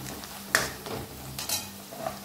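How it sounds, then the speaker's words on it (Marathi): Sambar masala roasting in hot oil in a pan, a soft sizzle under a few close, sharp spoon scrapes and clinks against the metal, no talk. "1-2 चमचे सांबार मसाला ॲड करूया। हाई तेलामध्ये छान भाजून घेऊया।"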